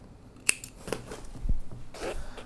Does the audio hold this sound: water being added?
no